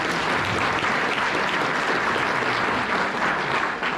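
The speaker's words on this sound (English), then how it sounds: "Round of applause for Alex." An audience at a college recruiting club night applauds a speaker, a dense, even wash of clapping from many hands that holds steady for several seconds.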